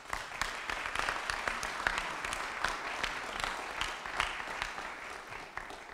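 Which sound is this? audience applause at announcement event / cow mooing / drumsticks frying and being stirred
audience applause at announcement event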